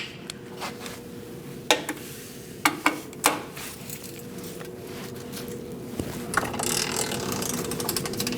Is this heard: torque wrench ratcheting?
yes